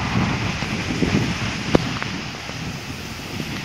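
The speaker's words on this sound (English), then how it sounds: "It's very windy." Steady, blustery wind roaring across the microphone in a continuous broadband rush, with a brief sharp gust-like pop partway through; no voices.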